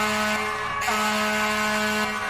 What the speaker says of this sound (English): I think this thing has the loudest horn out of all of them.